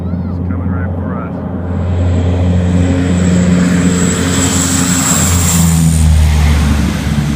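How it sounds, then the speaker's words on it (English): A heavy water bomber plane roars as it takes off from the water after scooping a load for firefighting, its engines droning loud and steady with a rising surge throughout. "how a heavy water bomber plane takes off from the water"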